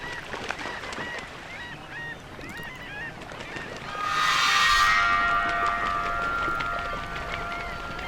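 Birds call around swampy wetland in the Llanos of Venezuela, goose-like honks and chirps at moderate distance, joined midway by a louder, sustained rushing sound with ringing tones.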